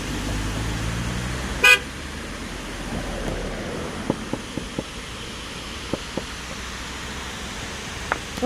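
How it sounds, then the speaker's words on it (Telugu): Cars passing on an outdoor road, a low continuous traffic rumble with one short horn toot early on and several faint clicks and knocks afterward, no talking. "కార్లు వస్తున్నాయి"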